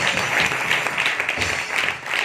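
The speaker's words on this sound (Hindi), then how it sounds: "एक बार जोरदार ताली बजा दो मेरी बहन के लिए।" A church congregation breaks into loud, sustained applause during a sermon, dense clapping close and filling the room for the whole stretch.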